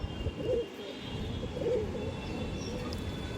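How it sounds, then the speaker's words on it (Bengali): A female Lambari pigeon cooing softly, two short low coos about a second apart over a quiet, steady background, with no talking. "মাদি মাদি পায়রা দেখুন, লাম্বারি পায়রা"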